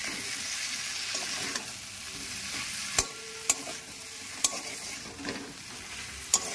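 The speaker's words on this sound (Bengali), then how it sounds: "দিয়ে এই মাছটা আবার একটু ভাজবে," Sea fish frying in spice paste with capsicum, a soft steady sizzle with occasional sharp clicks of a utensil stirring against the pan, fairly close and without talk.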